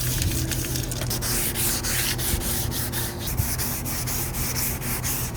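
Steady close sanding scuffs up a car body kit panel for a Subaru-Toyota FRS, a continuous raspy rubbing with quick repeated strokes and no talk.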